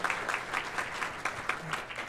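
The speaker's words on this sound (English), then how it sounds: "Let's give all of our College of Ag students a round of applause" A graduation crowd claps for College of Agriculture students, a moderate patter of many hands with some louder individual claps standing out.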